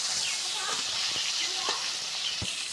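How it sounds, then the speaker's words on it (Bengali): Fish frying in oil in a pan makes a continuous, dense sizzling hiss close up, with a few faint stirring or turning noises rising briefly above it. "ভালোভাবে আমরা মাছগুলো আগে ভাজে নেব।"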